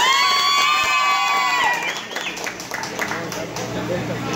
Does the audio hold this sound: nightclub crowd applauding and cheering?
yes